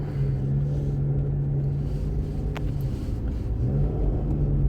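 Car pulling away, picked up by a microphone mounted near the suspended bearing and rear differential: a steady low rumble and engine drone with a faint hum, continuous and loud underneath.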